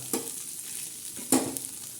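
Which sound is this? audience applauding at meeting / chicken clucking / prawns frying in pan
prawns frying in pan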